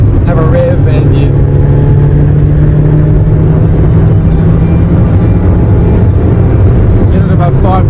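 A Toyota Sprinter's engine drones loud and steady from inside the car, a continuous mid-rev hum with a person talking over it.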